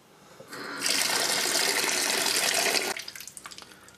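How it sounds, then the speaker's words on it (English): Water runs from a tap into a sink or pot of water for rinsing beans before canning: a steady close rush lasting a couple of seconds, then it cuts off into small splashes and drips. "we could probably get a little bit more water in here."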